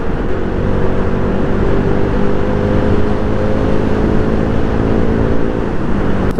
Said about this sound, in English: I feel like my bike, this Duke 200, lacks a lot of power when I drive on this type of road